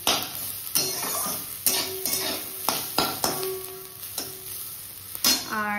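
Food frying in a home kitchen pan while a utensil stirs it, with repeated close clinks and scrapes against the metal over a low sizzling bed and no talking.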